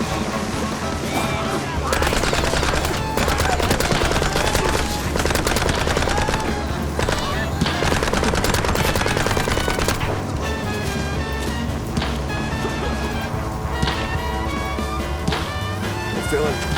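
Automatic gunfire from the cartoon-style shooter Mouse: P.I. for Hire, loud and nearly continuous for the whole stretch, mixed with game music and voices talking over it.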